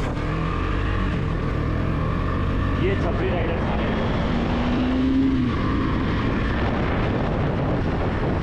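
A KTM Duke 250 motorcycle engine drones steadily while riding, with a brief rising pitch sweep in the middle, as riders talk over it.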